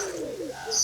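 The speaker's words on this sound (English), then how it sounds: "speckled pigeons." Speckled pigeons coo in a garden aviary at World of Birds in Cape Town: a short, soft, throaty coo, close by and alone, with a faint high chirp near the end.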